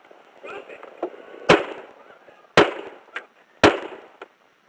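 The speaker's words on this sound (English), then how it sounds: "Shots fired, shots fired." Three sharp, loud gunshots ring out at a police shooting, well spaced with smaller bangs between, while officers shout commands around them.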